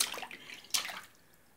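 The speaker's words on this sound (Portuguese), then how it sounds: "Não faz bagunça com a água." A cat splashing water in a bathtub at home, two quick, bright splashes a moment apart followed by quieter dripping, close and fairly soft with no talking over it.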